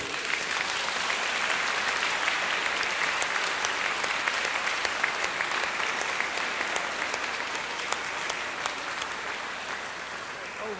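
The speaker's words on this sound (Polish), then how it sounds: "gorące brawa dla wspaniałych artystów" Warm, sustained applause from an audience at a municipal holiday concert, many hands clapping in a thick, steady roar with scattered sharper claps, gradually easing toward the end.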